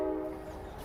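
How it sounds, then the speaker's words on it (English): A train horn sounds in a brief, steady blast from nearby railroad tracks beside a car dealership lot, with a low rumble underneath and no one talking. "We're right by the railroad tracks."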